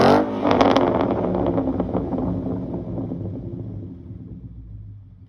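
A 2017 Mustang GT V8 with a muffler delete, sharp loud blips of revving at the start, then a raspy rumble settling down and fading away as the engine returns toward idle.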